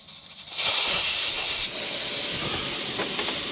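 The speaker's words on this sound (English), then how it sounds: "I'll pull the valve stem and get working on that." Air hisses loudly out of a dirt bike tire on a Yamaha WR400F as the valve stem is pulled, a steady rushing that starts abruptly, peaks, then settles to a slightly lower continuous hiss.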